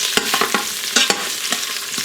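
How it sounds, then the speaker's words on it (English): Browning meat is stirred in oil inside an Instant Pot with a non-wooden utensil, giving loud, close scraping strokes in an irregular rhythm over a constant sizzle. "So let me stir that around."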